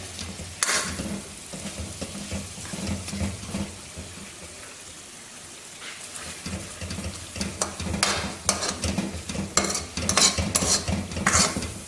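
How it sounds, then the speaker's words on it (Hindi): Chicken karahi sizzling and frying in a pan over raised heat, with repeated scraping stir strokes and bursts of crackling through the clip, close and fairly loud. "मैं अभी थोड़ी सी आंच इसकी करने लगा हूँ तेज़, ताकि ये अच्छी तरह से फ्राई हो जाए।"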